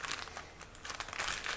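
A plastic bag crinkles and rustles in close, busy bursts while a new AGV K6 motorcycle helmet is unpacked.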